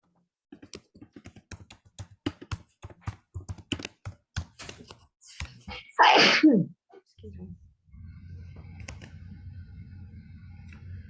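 A single loud sneeze bursts out near the middle, preceded by a run of sharp keyboard-like taps and followed by a low, steady hum.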